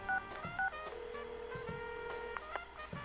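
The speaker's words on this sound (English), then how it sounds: "I dial Yosuke-kun's number." A phone number is dialed in the Persona 4 Arena story mode, a quick series of distinct touch-tone beeps over a quiet background of soft music.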